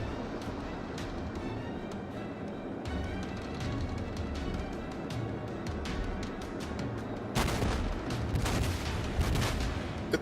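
Naval gunfire from a St. Louis class cruiser battle in World of Warships, a dense continuous rumble of distant cannon blasts and explosions that thickens into heavier bursts near the end.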